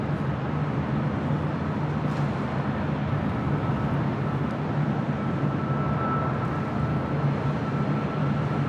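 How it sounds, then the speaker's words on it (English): A British Airways Airbus A380 jet airliner passes in the open air, producing a steady, loud, broadband engine roar with a low droning hum that holds evenly throughout, no voices present. "British Airways A380 heading south."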